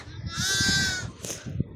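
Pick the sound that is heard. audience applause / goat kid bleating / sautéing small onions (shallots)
goat kid bleating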